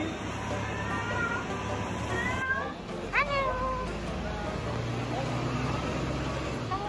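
A shop cat in Hong Kong gives a couple of short meows in the middle, heard over a steady background hum of indoor and street noise, fairly close but not loud.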